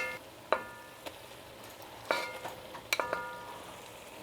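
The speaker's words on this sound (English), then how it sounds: "Gonna go ahead and add your brats into your onions." Bratwurst dropped into a pan of cooking onions, giving a soft sizzle with several sharp clinks and taps of metal and utensils at irregular intervals.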